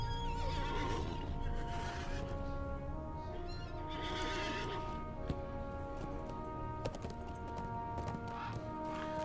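Horse neighs and whinnies with clip-clopping hooves in a video game, steady and fairly close, running throughout over a busy background of game ambience and music.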